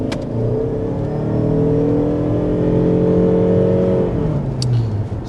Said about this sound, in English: So, an example of a rolling start, and as you can tell from that acceleration